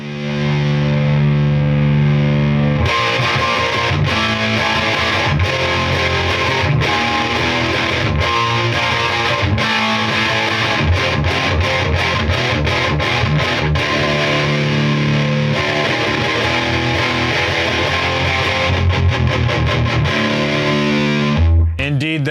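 Electric guitar played through a Traynor YBA1 amplifier set to unmodded 800 mode, a loud, crunchy distorted tone with sustained chords followed by fast rhythmic chugging and strummed passages, played alone without talk.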